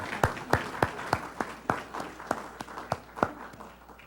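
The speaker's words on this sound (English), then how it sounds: "How about a round of applause for Robin and Sherry?" A small audience claps at a campus live-stream demonstration, with sparse, separate claps spaced about a third of a second apart, fairly close and moderately loud, and no talk over them.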